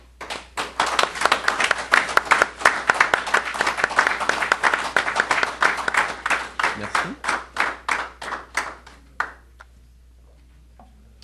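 Audience at a citizen platform launch stands and applauds, a sustained burst of loud, dense clapping that thins into scattered claps, with a brief voice near the end.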